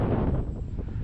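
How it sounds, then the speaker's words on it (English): Steady wind gusting at an RC flying field, buffeting the microphone with a continuous low rumble that swells and eases over about a second, with no talk over it. "oh man, is it windy."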